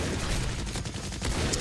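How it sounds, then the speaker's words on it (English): A shotgun fires in the video game Meltdown, dense booming blasts in a rapid string over loud action noise, close and continuous with no talk. "I like the shotgun, but it's so small range. It's a shotgun."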